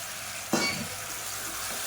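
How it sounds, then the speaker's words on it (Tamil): Brinjal, potato, green beans and broad beans drop into a hot pan for sautéing, with a sudden burst of sizzling that settles into a quieter steady fry. "இதை சேர்த்துட்டு நல்லா வதக்கி விட்டுக்கலாம்"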